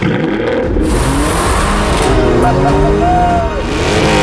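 A car pulls hard from 0 to 60 on a straight stretch of road, its engine rising in a loud, steady revving whine through the gears, with a voice talking over it.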